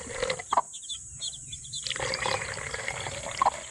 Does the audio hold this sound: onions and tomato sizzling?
no